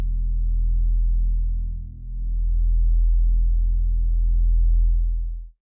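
Analog synthesizer patch with a slightly slower attack, holding a fat, low, sustained tone that swells and dips once before cutting off; heard alone and loud.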